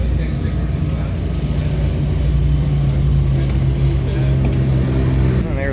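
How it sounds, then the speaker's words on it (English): A GT4 race car rolls into the paddock at Virginia International Raceway during the GT Challenge, its engine a steady, loud low rumble with a droning tone throughout, with faint talk in the background. "And here comes another one of the GT4s."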